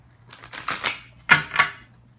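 Tarot cards being shuffled: two quick bursts of crisp riffling and flicking, a short pause between them, close and fairly loud with no speech.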